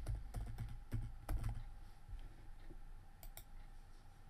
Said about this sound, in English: If we type in something like facebook.com